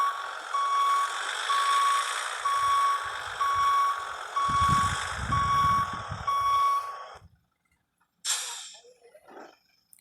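Volvo F12 truck reversing to hook up a trailer in the Cargo Transport Simulator video game: evenly spaced electronic reversing beeps over a low engine rumble, then an abrupt stop, a pause and a short rough clatter.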